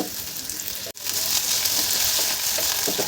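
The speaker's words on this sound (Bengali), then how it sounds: "আলুটা আমি একটু তেলে 1 থেকে 2 মিনিট মতন ভেজে নেব।" Cut potatoes frying in hot oil in a pan, a loud steady sizzle with a brief break near the start, then crackling resumes and continues without speech.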